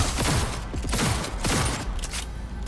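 Rapid gunfire in the game Cyberpunk 2077, played on the hardest difficulty: loud bursts of close shots in quick succession with mechanical clatter, sustained across the whole stretch and no talk.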